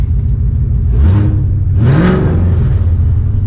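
A 1999 SVT Cobra Mustang with a swapped Coyote V8, BBK long-tube headers and Mac Flowpath cat-back exhaust revs twice in quick bursts, a deep throaty exhaust rising and falling over a steady low idle rumble.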